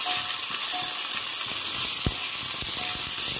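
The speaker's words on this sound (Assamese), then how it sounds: "আলুখিনি ফ্ৰাই হৈ আছে" Potatoes frying in oil, a dense steady sizzle heard close with a sharp utensil knock partway through and a few lighter clicks.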